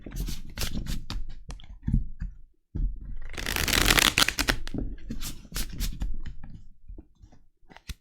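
Oracle cards are shuffled by hand in several quick, crisp riffling bursts separated by short pauses, close and fairly quiet, with no one speaking.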